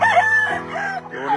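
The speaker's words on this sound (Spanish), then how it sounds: "qué bonito gallo." A Kelso gamecock rooster crows once on a farm, loud and close, a bright drawn-out call that rises and falls over about a second and a half.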